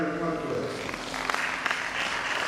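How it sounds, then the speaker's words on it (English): An audience claps for a speaker at a college lecture on food and agricultural science, steady applause running throughout with a voice talking over it. "Let's give her a round of applause for that."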